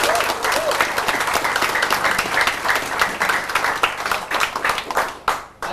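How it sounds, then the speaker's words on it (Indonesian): A roomful of attendees at a new partnership orientation event applauds loudly and continuously, dense clapping holding for several seconds and breaking into scattered final claps at the end. "Mohon tepuk tangan untuk semua."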